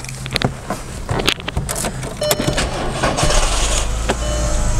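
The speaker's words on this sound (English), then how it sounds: "And we are starting the car" A car is started, with keys jangling and clunks of handling in the cabin before a low engine rumble rises and settles into a steady idle in the last seconds; the engine runs rough with a warning light on.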